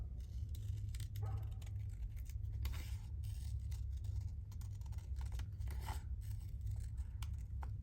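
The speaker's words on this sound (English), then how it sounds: "So I'm turning the paper around, I'm not moving the scissors, or not too much." Scissors snip collage paper in a series of crisp, irregular cuts, close and fairly quiet over a low background hum, with no talking.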